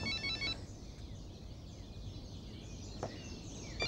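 A telephone rings indoors in a comedy scene, a trilling electronic bell repeating in short bursts, faint against a steady background hiss, with no talking.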